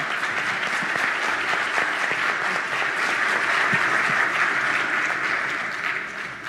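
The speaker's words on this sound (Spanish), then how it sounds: "un aplauso para ella" At a congress session, a seated audience applauds steadily, a continuous wash of clapping at even loudness that begins to ease off at the very end.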